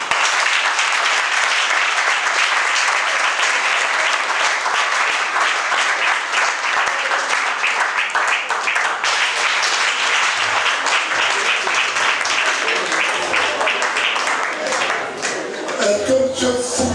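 Wedding guests in a hall give loud, sustained applause and cheers throughout a civil marriage ceremony. The clapping stays thick and even, and voices rise near the end.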